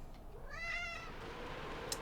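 A pet cat named Basil gives a single drawn-out meow, close and fairly quiet, rising and falling over about half a second, with low room noise around it.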